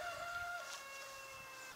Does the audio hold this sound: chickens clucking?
yes